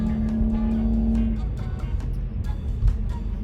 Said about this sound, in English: there's a really loud car in front of me